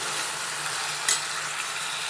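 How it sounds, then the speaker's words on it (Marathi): Chicken pieces sautéing in onions and oil in a pan for a simple chicken curry, giving a steady close sizzle with one brief stir in the middle and no talking. "चिकन ॲड करून झालेलं आहे, त्याला आता कांद्यामध्ये चांगलं परतून घेऊया आपण।"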